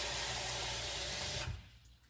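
Water pours into a pot of black kavuni rice porridge (kanji) in a steady hiss for about a second and a half, then stops abruptly, leaving quiet.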